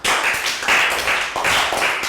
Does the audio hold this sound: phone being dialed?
no